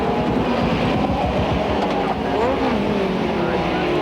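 Touring cars racing at Donington Park in the 1990 British Touring Car Championship, a dense, continuous roar of several engines passing together, loud and close, with a commentator's voice faintly underneath.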